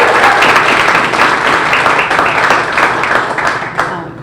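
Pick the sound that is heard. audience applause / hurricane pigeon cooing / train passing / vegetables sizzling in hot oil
audience applause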